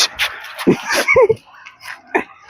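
A dog yips and whimpers in short, excited bursts close by, a few quick barks and whines in a row.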